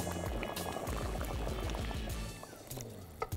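Water is poured into a pot of simmering pasta and tomato sauce, giving a continuous bubbling, splashing liquid sound close to the microphone with no talk over it.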